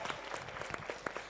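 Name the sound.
audience applause for panelists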